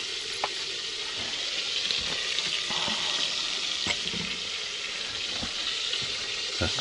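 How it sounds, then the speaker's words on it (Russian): Oil frying in a pan while the contents are stirred, a steady close crackling sizzle broken by scattered scraping and clinking knocks from the spoon, with no talking. "Перемешиваем."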